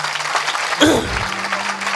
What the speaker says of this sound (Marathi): जोरदार टाळी वाजवायची